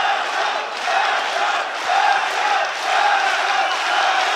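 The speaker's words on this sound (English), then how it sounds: "The crowd are getting behind Shapley. They're trying to motivate him." A live MMA event crowd roars and cheers in a sustained swell, dense and loud, with rising waves of shouting and a couple of sharper accents, no clear commentary on top.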